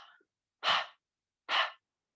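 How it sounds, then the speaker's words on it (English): Breath-of-fire yoga breathing, two sharp panting exhales pushed through the mouth a beat apart, close and breathy, with a faint breath at the start. "So it's like you're panting."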